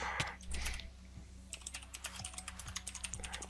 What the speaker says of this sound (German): Mit der Tippen hört man eigentlich immer am lautesten.